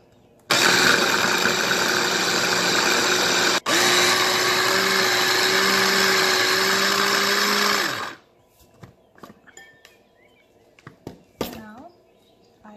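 An electric meat grinder working beef, onion and parsley for Adana kebab, a loud steady motor drone with a brief stutter partway, cutting off after about eight seconds to scattered clinks and handling noises.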